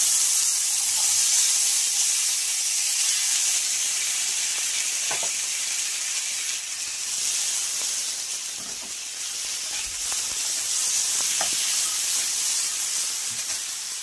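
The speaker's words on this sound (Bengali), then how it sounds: "আলুগুলো ভেজে নিচ্ছি।" Steady high-pitched sizzle of potatoes frying in oil, continuous and close, with a few faint clinks of utensils.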